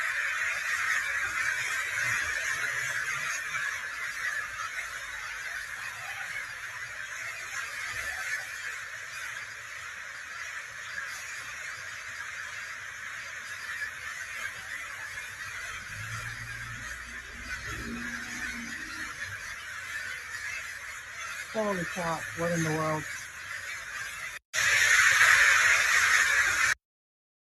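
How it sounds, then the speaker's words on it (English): A large flock of birds in Los Angeles keeps up a dense, continuous chorus of honking and chattering calls that fills the whole stretch, with a few louder nearby calls toward the end. A voice exclaims briefly near the end. "a bunch of birds that were recorded from someone in Los Angeles just yesterday"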